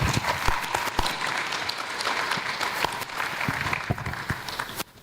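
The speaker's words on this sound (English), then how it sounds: "let's give him one more round of applause" Dense audience applause at a GNU Radio Conference session fills the room for about five seconds, steady with sharp individual claps, then breaks off abruptly near the end.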